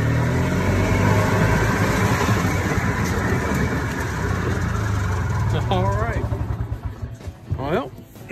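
An engine on a restored golf cart with a freshly cleaned carburetor runs close by with a steady, rough throbbing that eases off toward the end while voices speak briefly.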